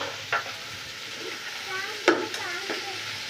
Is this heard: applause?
no